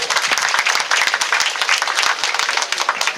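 An audience at a councillor's office opening ceremony applauds, a dense, loud and continuous wash of many hands clapping together, sustained and close throughout.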